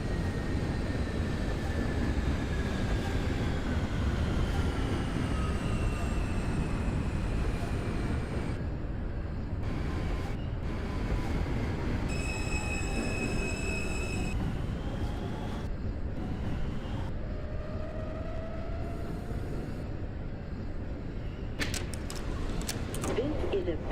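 An R160 subway train runs as an R local to Bay Ridge-95th Street in the OpenBVE simulator: a constant rumble under shifting motor whines, with a steady electronic tone partway through and clattering bursts near the end.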